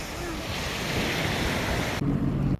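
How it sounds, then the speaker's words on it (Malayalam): Strong wind roars across the open sea off Langkawi, a steady, loud broadband rush mixed with surf and buffeting the microphone, then dropping sharply near the end. "കാറ്റും തണുപ്പുമുണ്ട്."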